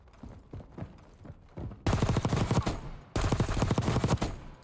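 Grau assault rifle firing in the Warzone battle royale game, starting with sparse muffled shots and then two long, loud, rapid automatic bursts at close range, with no talking.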